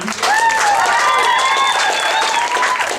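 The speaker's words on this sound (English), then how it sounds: "A cheer for Miss Delight, our stage king" A theater audience at an amateur circus-themed stage show claps and cheers loudly, with whoops and high shouts riding over dense, steady applause throughout.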